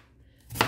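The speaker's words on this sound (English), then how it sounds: "Just giving it a rough chop." A knife roughly chopping onion on a cutting board, heard as a single close, sharp chop near the end after a brief quiet stretch.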